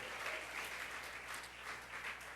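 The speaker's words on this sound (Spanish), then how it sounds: "Denle estas palmas al Señor Dios Todopoderoso." Church congregation applauding during a Sunday service, steady, full clapping from many hands that continues throughout without letup.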